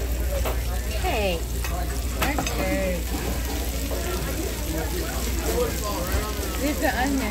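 Onions frying in a pan give a steady, broad sizzle through the whole stretch, with voices talking and chattering over the top in a busy home kitchen.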